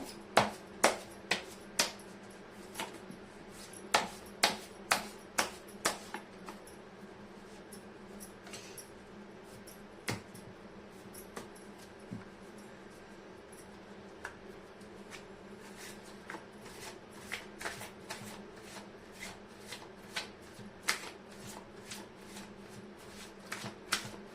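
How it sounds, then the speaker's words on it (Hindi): Tarot cards shuffled by hand in a quiet room, crisp riffling bursts and taps coming in irregular clusters over a low steady background hum, close and clear with no talking. "कर लेती हूँ कार्ड की शफलिंग।"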